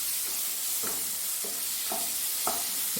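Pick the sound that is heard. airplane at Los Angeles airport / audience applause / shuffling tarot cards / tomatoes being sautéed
tomatoes being sautéed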